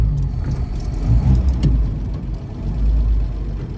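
A 1931 Chevrolet car drives along with a low, steady engine rumble and road noise, swelling slightly as it pulls, heard from inside the car without talk.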